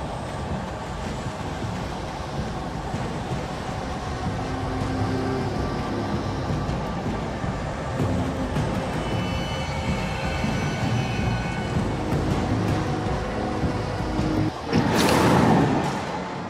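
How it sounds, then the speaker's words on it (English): Wind whooshing through trees in the Alan Wake video game, signalling approaching enemies: a steady, loud, broadband rush that swells slightly midway, then a brief louder gust near the end, with no talking. "you'll hear that whooshing of the wind through the trees whenever enemies start to get near."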